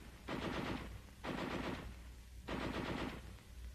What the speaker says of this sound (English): the heavy machine gun can be fired safely over the heads of the riflemen